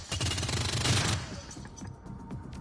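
A rapid burst of gunfire in the tactical video game Shadowrun Dragonfall, loud dense crackling shots for about a second, followed by quieter scattered impacts and decaying echoes.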